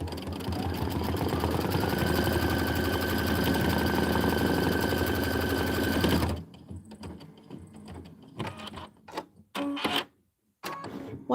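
An embroidery machine stitches a leaf outline and stem fill with a fast, steady mechanical whir and needle chatter for about six seconds, then stops, leaving scattered clicks and handling sounds.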